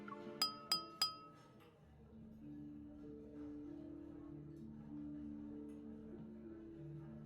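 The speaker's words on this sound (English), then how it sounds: "The crisp sound of clinking glasses captures everyone's attention." Glasses clink three times in quick succession at a banquet in the game Love and Deepspace, crisp and bright, followed by a low, steady ambient drone with soft musical tones.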